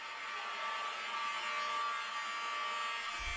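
A building fire alarm sounding during a shooting response, a steady high electronic tone that drones on continuously without voices, ending with a low thump.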